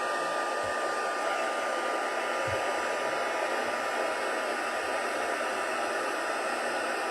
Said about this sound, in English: my heat gun is nice and hot, it's not going to take me long at all to do this one